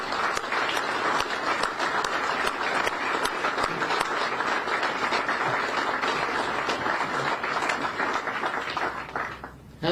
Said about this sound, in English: How about a round of applause for all the service members in this audience?